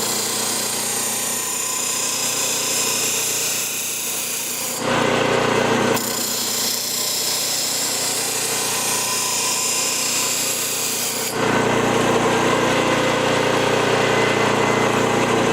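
A chisel is ground on a power grinder, a continuous loud rasping whir with the tone shifting as the steel is pressed to and lifted from the wheel.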